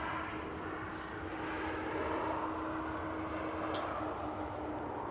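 Ryanair airliner arriving from Rome at Manchester Airport: a steady, moderately loud engine roar with a faint whining tone, continuous and without talk.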